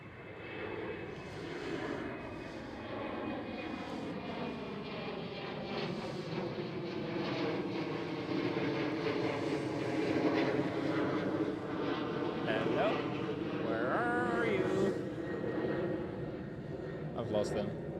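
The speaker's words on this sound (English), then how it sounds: "And there is the first one to depart of the queue. KLM Cityhopper E190." A KLM Cityhopper Embraer E190 jet departs, its engine roar building steadily and rising in pitch as it powers away, loud and continuous with a voice talking over it.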